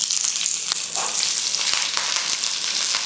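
Green chilies sizzle and crackle steadily in hot oil, a constant bright frying hiss with occasional pops.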